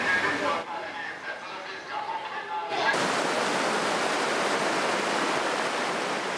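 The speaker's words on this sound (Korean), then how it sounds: "시원하게 흐르는 계곡의 물소리를 들으며" Cool valley stream in Borjomi National Park, Georgia: after a quieter opening with a brief voice, a loud, steady rush of flowing water fills the rest of the clip.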